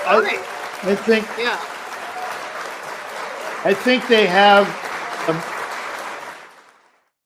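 Canned applause sound effect played during a live streamed game show, a steady broadband clapping wash lasting several seconds and fading out at the end, with people talking over it throughout.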